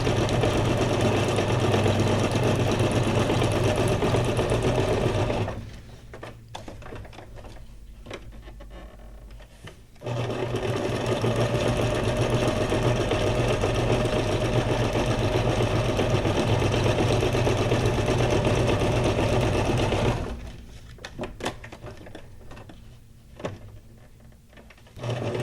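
A sewing machine stitches fabric scrap pages for a junk journal in long steady whirring runs, loud and close, with quieter pauses and small handling clatter between the runs.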